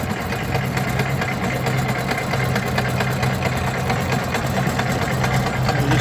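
An electric outboard motor pushes a boat-mounted pond weed cutter across a fishery pond, producing a steady, droning mechanical hum with a low rumble and rattling vibration that holds evenly throughout, with no voices.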